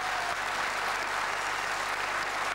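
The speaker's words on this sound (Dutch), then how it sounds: "We geven haar een applaus," Studio audience on a Flemish television quiz show gives a strong, dense round of applause, many hands clapping at steady loudness with no speech over it.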